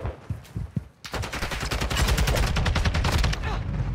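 An assault rifle in Call of Duty: Modern Warfare 2 fires a few separate shots, then a long rapid automatic burst rattles out loud and close. The dense gunfire continues through to the end.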